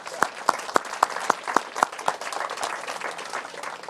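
Applause at an outdoor park train ribbon-cutting celebration, opening with a few sharp, evenly spaced near claps before the crowd's clapping thickens into a steady, moderate round of applause.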